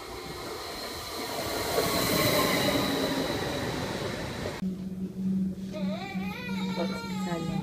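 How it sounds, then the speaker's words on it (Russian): An electric commuter train in Germany, on the Dortmund to Hiltrup route, rumbles past with squealing wheels, then the scene shifts to a steady low hum with a voice speaking. "Вот наша электричка."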